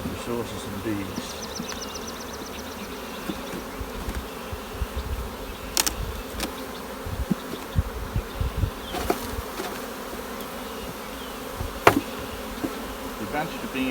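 Honeybees buzzing around hive frames while splitting colonies into nucs, a dense steady hum with individual bees droning close past, mixed with occasional clicks and handling noises.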